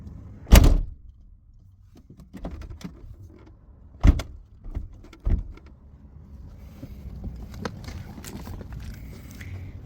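The broken door of a Ford E-250 van is worked several times, giving sharp clunks and bangs near the start and middle, then rattling, scraping handling sounds.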